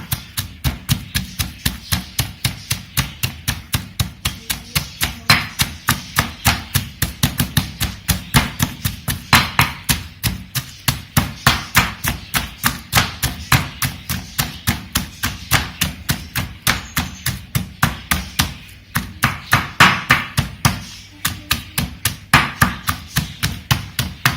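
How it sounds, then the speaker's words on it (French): Peeled garlic crushed with salt in a mortar, a rapid continuous series of sharp pestle thuds in a steady rhythm, loud and close, with no talk. "Petit à petit, j'incorpore l'ail dans le mortier avec un petit peu de sel pour que ça s'écrase plus facilement"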